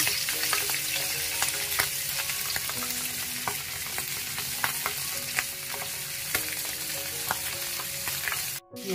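Sital pati fish fries in hot oil with a loud, steady sizzle and crackle, close by and unbroken, with occasional sharper pops and clinks, and no voices.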